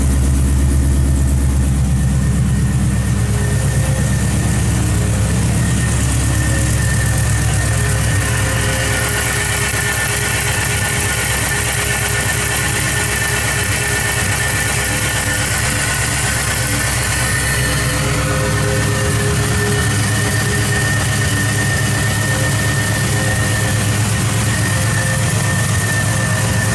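A car engine idles loudly and steadily just after start-up during repair of the upper radiator hose, a continuous droning hum with a faint fan whir, nearby and unbroken for the whole stretch.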